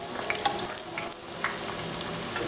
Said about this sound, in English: You only need to fry this about 5 minutes total or less